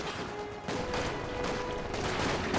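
Grenadier rifle fire in the Company of Heroes 2 battle, a quick run of sharp gunshot cracks and bursts amid battlefield rumble, moderately loud and continuous throughout.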